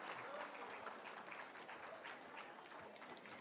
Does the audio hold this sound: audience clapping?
yes